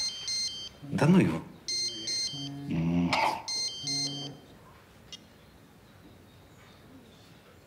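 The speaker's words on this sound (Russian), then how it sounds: "Телефон." A mobile phone ringtone plays in short repeated bursts of electronic melody, moderately loud, with a voice speaking over the gaps and then the ringing stopping.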